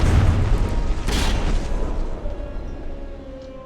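A deep, booming discharge of casemate guns on a warship in a naval battle game, one heavy blast with a second sharp report about a second later, rolling off into a long rumbling decay.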